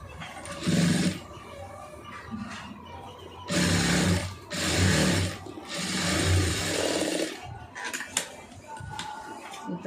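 Short bursts of sewing machine stitching along a blouse neckline, several spurts of a few seconds each with quieter handling noise between them.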